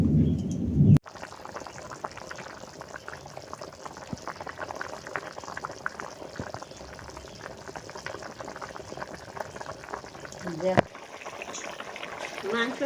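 Village-style desi chicken curry broth with potatoes at a steady rolling boil, bubbling and gurgling close by with occasional clinks from the pot.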